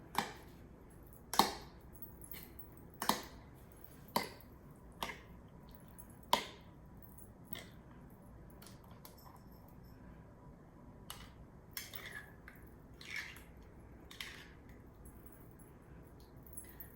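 Salsa with fresh onions and cilantro is mixed in a stone molcajete, giving a series of sharp, separate knocks and taps spaced a second or so apart, close and clear against a quiet background.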